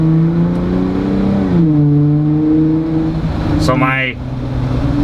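A Jeep Wrangler JL exhaust rumbles as it accelerates from a stop, its engine note climbing in pitch, dipping at a gear change, then rising again, with a brief spoken word near the start.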